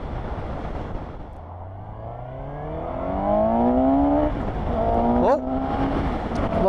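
The engine of a 2020 Suzuki GSX-S750 motorcycle climbs in pitch under hard acceleration over loud wind and road noise, then briefly stutters as traction control abruptly cuts the power.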